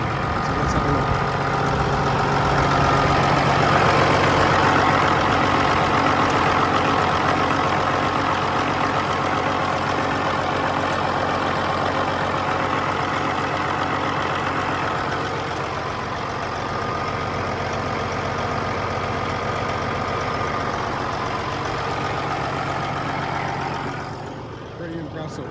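A Cummins diesel engine idles steadily with a low, even rumble and mechanical clatter, holding a constant level close by before easing off slightly near the end.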